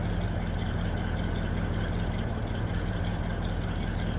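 A Lizard V8 engine idles steadily in Farming Simulator 22, a low, even rumble that holds close and constant throughout with no talk over it.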